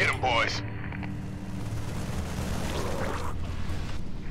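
A bunker blows up in StarCraft II, a dense, rumbling blast with crackling debris that rolls on as a sustained low roar under game sounds and a brief electronic tone at the start.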